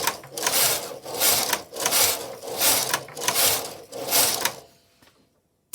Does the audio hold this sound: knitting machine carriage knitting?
yes